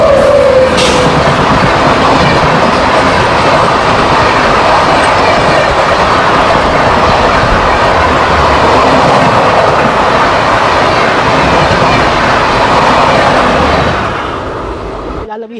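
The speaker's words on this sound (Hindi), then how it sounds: "12130 आज़ाद हिंद एक्सप्रेस हावड़ा से चल के पुणे की ओर जाने वाली 3 नंबर में आ रही है" The 12130 Azad Hind Express rushes past on the neighbouring track, heard from aboard a local train as a loud, steady roar with rapid clattering wheels for about fifteen seconds before fading at the end.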